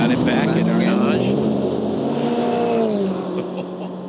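Porsche race car engine at the 24 Hours of Le Mans 2023, near Arnage, a loud sustained engine drone with shifting pitch that fades slightly toward the end, heard under continuous commentary talk.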